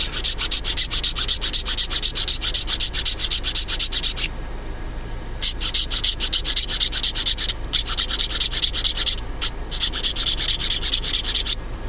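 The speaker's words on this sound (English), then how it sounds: "we're going to file this guy across just like this" A hand file rasps across wood being shaped into a Cherokee four-hole whistle, fast regular back-and-forth strokes, close and loud, with a couple of brief pauses.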